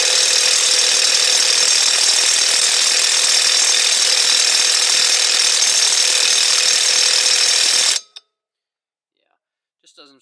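Milwaukee M12 FUEL 3/8-inch stubby impact wrench on setting 2, hammering continuously for about eight seconds in a loud, steady, high-pitched rattle, then stopping abruptly and leaving near silence.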